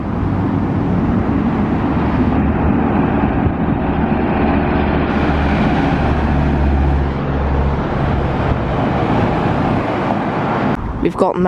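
A classic Foden lorry, led by an ERF, drives past on the Cheshire Run 2021 with a loud, continuous diesel drone that stays near for about ten seconds before a brief clatter at the end; a voice talks over it.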